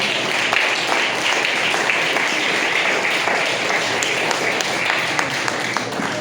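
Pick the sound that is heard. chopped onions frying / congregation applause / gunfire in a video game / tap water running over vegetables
congregation applause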